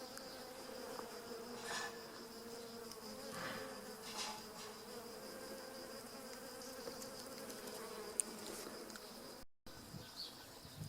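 Bees hum and buzz softly and steadily around lavender nearby, passing close at moments against a quiet garden background.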